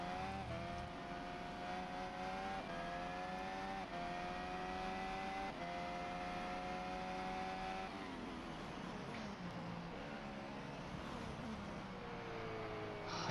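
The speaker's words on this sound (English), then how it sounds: "let's listen to the car" A Formula 1 race car engine at the 2023 Chinese Grand Prix gives a sustained high-pitched whine, held steady before dropping and shifting in pitch near the end, loud and unbroken with no talk over it.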